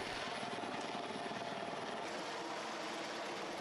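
A water-bombing helicopter carrying 4,000 litres of water flies over a burning landfill, giving a steady, fairly faint rotor drone with a continuous broadband rush and no talk.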